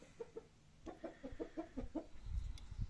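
Village chickens cluck nearby in a quick run of short, choppy calls, fairly faint, with a low rumble of background noise toward the end.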